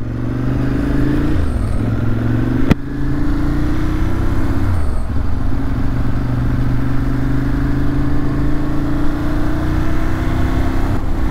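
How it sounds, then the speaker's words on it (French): 2006 Ducati Monster S4RS ridden at 80–90 km/h, its engine a steady droning note with rising and falling pitch through gear changes, loud and close alongside wind noise, with a single sharp click partway through. "voir un peu ce que ça donne de rouler à 80-90 avec cette moto stabilisée"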